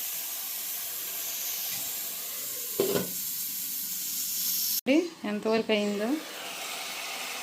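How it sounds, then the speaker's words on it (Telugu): Chicken masala curry frying and sizzling in a pan on a home stove, a steady hiss filling the clip with brief stirring clatter, while someone speaks briefly near the end. "చూసారా, ఫ్రై అయిపోతుంది."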